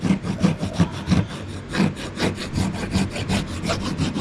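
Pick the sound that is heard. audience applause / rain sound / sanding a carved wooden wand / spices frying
sanding a carved wooden wand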